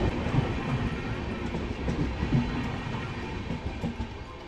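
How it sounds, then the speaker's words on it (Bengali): The Paharia Express runs along the track near Aluabari Road Junction with a continuous rumbling roar and rhythmic wheel knocks from inside the carriage. "সো ফাইনালি আধা ঘন্টা মানে আলুবাড়ি জাংশনে দাঁড়ানোর পরে জাস্ট ট্রেনটা ছাড়লো"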